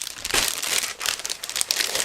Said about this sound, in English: So now I'm going to open the next plastic bag